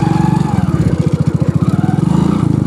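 A motorcycle engine labours in second gear off-road beside a river, a close, throbbing low pulse that rises and falls steadily as the bike pulls through rough ground.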